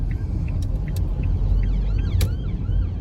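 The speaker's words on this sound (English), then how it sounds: "I'm heavily distracted by that ambulance there" An ambulance siren passes through a car park, its rising and falling wail fairly faint and distant above a heavy low rumble of traffic.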